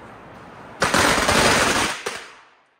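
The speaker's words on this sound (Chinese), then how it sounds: "烧大炮仗" A long string of big firecrackers bursts in a rapid, loud crackling volley for Lunar New Year in a Hakka village in Xinfeng County, Shaoguan, Guangdong, then the bangs stop and the echo fades away.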